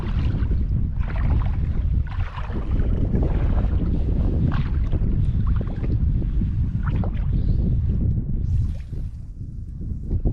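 Steady offshore wind roars into the microphone while boating on the Bay of LA, a loud, continuous gusty rush with water wash underneath and no voices.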